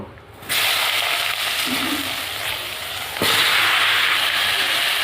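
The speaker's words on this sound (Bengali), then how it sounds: "এই মাছ ভাজার তেলের উপর আমি বেগুনগুলো ভেজে নেব।" Eggplant pieces go into hot oil already used for frying fish and burst into a loud, close crackling sizzle. A second surge follows a few seconds later as more pieces drop into the pan, and the frying continues without pause.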